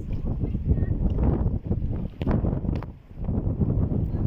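Strong wind blows along a sunny seaside, a loud continuous roar buffeting the microphone with gusts that rise and fall, and nobody talking.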